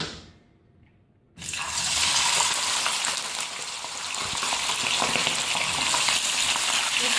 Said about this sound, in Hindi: पहले हम ऑयल लेंगे, मैंने हाफ कप ऑयल लिया है, उसके अंदर हम अपना गोश्त शामिल करेंगे।